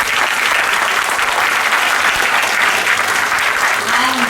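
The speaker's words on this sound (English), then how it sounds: "A big round of applause for our teachers." Loud, sustained applause from a school audience for the teachers at a class event, dense clapping filling the whole stretch without a break.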